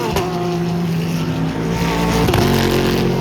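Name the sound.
Volkswagen Jetta race car engine on track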